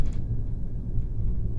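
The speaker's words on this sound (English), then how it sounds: "There's a thunderstorm." Low, continuous thunder rumbles steadily outside during a storm, a deep muffled roll that stays fairly even and moderately loud throughout with no voices.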